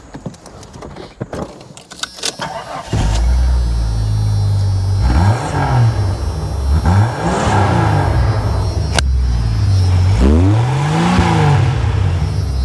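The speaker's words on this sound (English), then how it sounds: "It's got that straight 6 sound." A lifted Jeep Cherokee XJ's straight-six engine idles and then revs repeatedly, with three or four rising-and-falling throttle blips close by, loud and alone.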